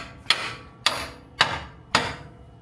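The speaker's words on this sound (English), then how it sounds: "maybe I'll just hit it with a hammer." Four sharp, evenly spaced hammer blows ring out on a car's front control arm during a brake and suspension repair, close and loud with no talk.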